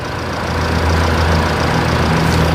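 A vehicle engine idles steadily at low speed, a continuous low rumble with a faint uneven knock, close and fairly loud with no talking.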